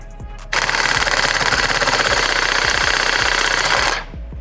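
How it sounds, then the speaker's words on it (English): A power tool cuts a slit into the rubber engine mount bushing of a Volkswagen MK8 Golf R, a loud, steady, rapid rattling buzz running about three and a half seconds before stopping abruptly. "We're gonna go ahead and cut a slit into this bushing"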